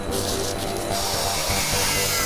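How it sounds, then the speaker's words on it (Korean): A power drill boring a hole in a steel house wall, a dense, loud, grinding whine that holds steady and close throughout the short burst. "멀쩡한 벽에 왜 구멍을 뚫는 거지요?"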